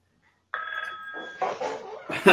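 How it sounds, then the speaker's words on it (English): A phone rings with a sustained electronic tone during a live kayak fishing show, followed by rustling and handling noise. "our buddy Brian, who sounds like his phone just rang"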